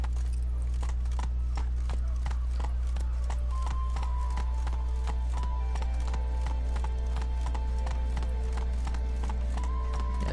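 Roach, a horse in the video game Witcher 3, gallops in a rapid, steady drumming of hoofbeats over a constant low game-engine hum, with faint game sounds mixed in.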